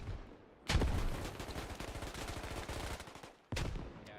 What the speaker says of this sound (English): They're going to begin shooting down on top of the Western PMCs.